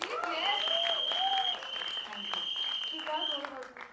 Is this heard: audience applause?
yes